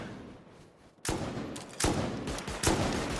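Heavy gunshots and a rocket blast in the survival game Rust hit a tree in a few loud, separate bursts with echoing tails after an opening stretch of near quiet.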